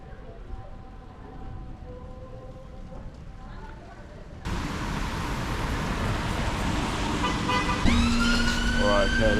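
Police car and ambulance sirens wail on a rainy London street, rising over traffic and rain noise, with the siren tones sweeping clearly in the final seconds.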